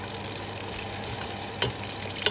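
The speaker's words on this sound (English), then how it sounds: "So the onions are sauteing." Onions sauté in a pan on the stove, a steady close sizzle and crackle with a few brief stirring scrapes and no talking.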